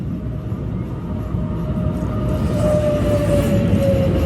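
A train rumbles past nearby in Brookline or Boston, a steady low roar with a faint high whine growing louder toward the end.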